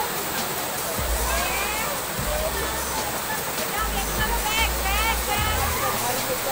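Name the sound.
Dudh Dhara waterfall at Amarkantak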